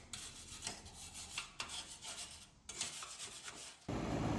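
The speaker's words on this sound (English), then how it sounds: "I just scrape, and then followed up with a wire brush" A wire brush scrubs rusty metal outdoor furniture in repeated rasping strokes, close and fairly quiet, with short pauses between passes.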